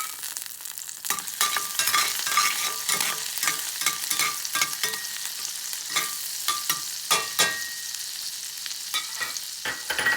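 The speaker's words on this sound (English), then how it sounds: "I'm just going to let it caramelize the garlic a little bit and then add the meat." Garlic sizzles and fries in bacon fat in a pan while a utensil stirs it, giving a loud, steady crackle broken by repeated scraping strokes, with no talk.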